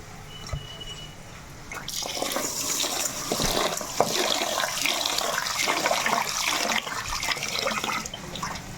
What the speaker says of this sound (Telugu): మామూలు నార్మల్ బియ్యమే ఇంట్లో వాడుకున్నాయే శుభ్రంగా ఇది కడిగేసుకుందాం